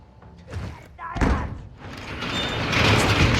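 A door in Call of Duty: Modern Warfare II bangs open with a heavy thud, followed by rising noise and commotion, with voices talking around it.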